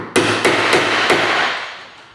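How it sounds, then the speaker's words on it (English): A hammer drives a sharp chisel into a door to recess a hinge: four sharp, ringing strikes spaced about a third of a second apart, close and loud, each trailing off into a short decay. "Now we're going to take a hammer and a nice sharp chisel,"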